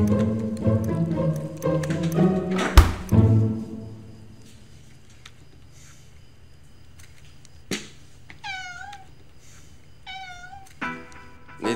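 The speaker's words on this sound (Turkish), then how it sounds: "Sahibinin kedisi işte." A cat meows twice in clear, rising-falling calls, following earlier louder sounds and a sharp thump, in a quiet indoor room.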